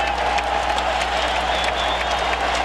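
A Philadelphia NBA arena crowd roars and applauds throughout at the 76ers vs Bucks 2001 Eastern Conference Finals Game 7, a dense, steady wall of cheering and clapping with no break.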